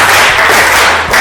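Students in a classroom clap together in a group, a loud, dense burst of hands with a brief dip near the end before the clapping resumes.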